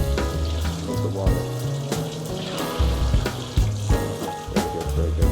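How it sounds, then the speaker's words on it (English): Tap water runs into a sink as broccoli leaves are rinsed, a close, loud splashing flow with rhythmic thumps and sloshes as the leaves are moved about. "I'll do one more rinse and then we'll spin dry them."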